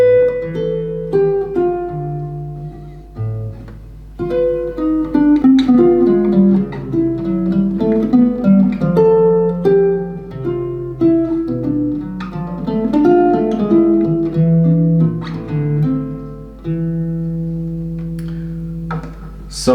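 Solo guitar plays a rubato chord-melody phrase, with clear plucked chords and single notes that ring and decay at a loose, unhurried pace, close and moderately loud with no talking.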